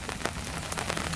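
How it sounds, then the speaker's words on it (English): Heavy rain pours down during a storm at an overland campsite with a vehicle awning, a steady dense hiss of drops hitting surfaces with small bursts, close and fairly loud, no voices. "so the rain kind of picked up"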